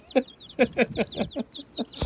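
A hen clucks in a series of short, close, rhythmic calls, about eight bursts in two seconds, ending with a sharper squawk.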